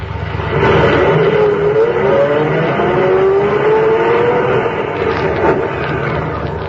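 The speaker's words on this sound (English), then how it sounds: "open the gates while I drive through" A car engine in a 1948 radio drama rumbles steadily close by as the vehicle drives through estate gates, a continuous moderate drone with a slight rise in revs.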